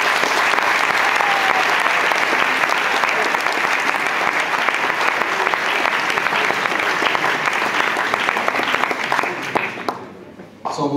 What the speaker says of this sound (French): Je vais vous demander de les applaudir également.